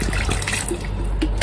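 Tap water splashes and trickles as it is poured into a pet water fountain, a close, continuous bubbling pour lasting a moment with no talk.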